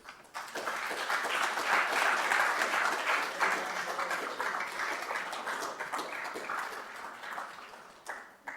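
An audience at a university agriculture postgraduate showcase applauds in a sustained, fairly distant round that rises quickly, holds steady for several seconds, and fades near the end.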